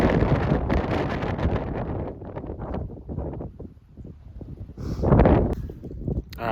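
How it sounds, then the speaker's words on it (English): Strong, gusty Santa Ana wind in the Southern California hills, heavy roaring buffets against the microphone that ease into a lull and then surge again. "it is a blustery day here in the Southern California hills"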